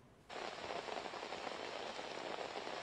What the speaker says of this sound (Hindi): बारिश ने फिर से जोर पकड़ ली है